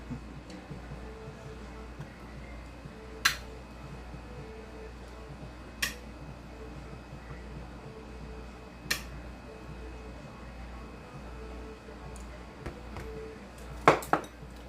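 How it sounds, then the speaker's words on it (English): Lids being screwed onto glass canning jars of raw corn cut off the cob, with a few sharp metallic clicks and clinks spaced out over a quiet, low background hum. "now we'll put our tops on"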